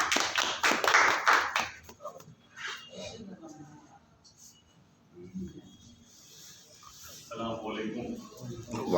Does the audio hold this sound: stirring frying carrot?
no